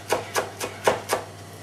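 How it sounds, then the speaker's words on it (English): A knife chops through a tight bunch of parsley on a cutting board, five crisp, evenly spaced strikes, close and clear with no talking. "we're going to begin the chopping process now."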